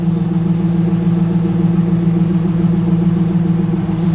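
A 2001 Pontiac Trans Am NHRA Edition with the WS6 engine idles steadily, a loud, close, deep rumble holding an even tone with no revving or talk.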